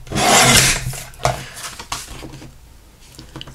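A thin sliver of recycled Christmas card being trimmed, a loud dry rasping cut at the start followed by a few shorter scraping strokes that fade to quiet.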